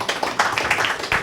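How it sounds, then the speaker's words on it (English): Short burst of audience applause for a panel at a UN Tourism side event, scattered hand claps of moderate loudness lasting about a second. "I think they deserve another round of applause"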